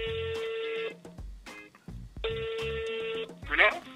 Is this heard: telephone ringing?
yes